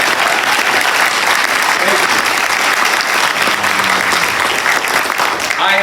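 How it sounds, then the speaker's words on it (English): A large crowd at a get-out-the-vote political rally in Maryland applauds loudly and continuously, a thick sustained wash of clapping with scattered voices and cheers woven through it. "can we please give a round of applause to all the leadership"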